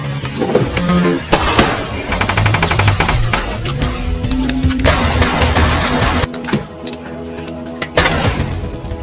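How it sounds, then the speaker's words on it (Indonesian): Gunfire in an action-film shootout, dense bursts of shots and clinking, breaking sounds over a loud, busy soundtrack, with brief voices mixed in. "Romano yang terus menembaki Potter dengan membabi buta karena ia sudah tidak memiliki amunisi lagi"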